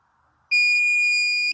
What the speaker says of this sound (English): It's going to beep at us when it's time, when it's heated up and ready to go.